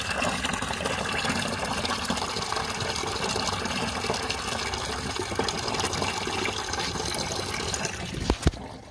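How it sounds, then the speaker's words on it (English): Engine coolant from a 2005 Nissan Titan pours into a bucket in a steady, close trickling gush that runs continuously, ending with a couple of sharp knocks. "So what I'm doing, I'm draining in a bucket."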